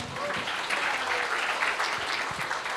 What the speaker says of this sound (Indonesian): Boleh tepuk tangan untuk Mbaknya.